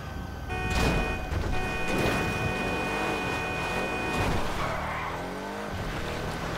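Annis Helion off-road car driving in GTA 5, the engine droning loud and steady while the tires squeal and skid briefly and the vehicle revs throughout.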